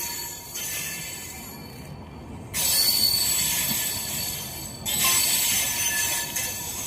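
A Bhagalpur–Gomti Nagar Amrit Bharat Express on its inaugural run passes through Jamalpur station, with loud, sustained metallic wheel squeal and rail rumble that swells in two surges, close by and continuous.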